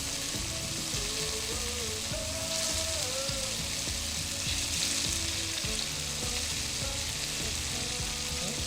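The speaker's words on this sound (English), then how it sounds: "I'm placing it away from me so that if oil splatters, it splatters that way." Tofu fries in hot oil in a pan for Korean braised tofu, making a loud, continuous dense sizzle and crackle that stays even throughout, close up.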